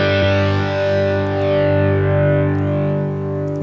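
Electric guitar through a Kemper profiler holds one sustained distorted chord while the cabinet high shift is adjusted, so the bright upper tone slowly darkens and then brightens again; loud and close, with no talking.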